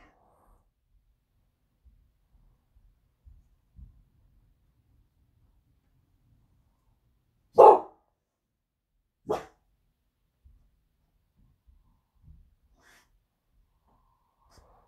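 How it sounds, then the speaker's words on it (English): A dog barks twice, short, well-spaced and moderately distant, in an otherwise quiet indoor space with faint soft knocks. "Dog's barking."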